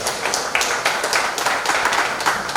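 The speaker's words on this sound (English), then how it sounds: "Can Caucus clap for themselves?" Members of a youth caucus audience clap for themselves at an end-of-year party in a hotel in Juba, South Sudan: dense, continuous applause from many hands, steady and fairly loud throughout with no voices on top.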